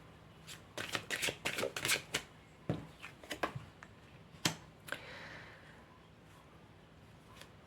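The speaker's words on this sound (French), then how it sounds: "Je vais tirer une carte, pile 3." Tarot cards shuffled and drawn from a pile: a quick run of crisp riffling flutters and snaps, then a few separate slaps and slides that trail off into near silence, close and soft.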